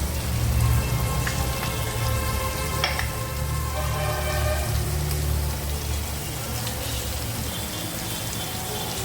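Ground coriander and cumin frying in a pan, a dense, rain-like crackling sizzle that stays loud and steady throughout, with a low hum underneath and no speech.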